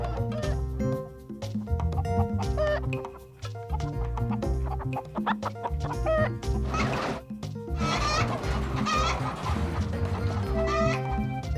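Chickens cluck and a rooster calls in a busy barnyard mix, with bleating sheep or goats layered in, the animal calls loud and close over a steady background.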